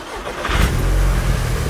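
An Audi S3 8P engine cranks and catches, then settles into a loud, steady idle rumble heard close up with no voices.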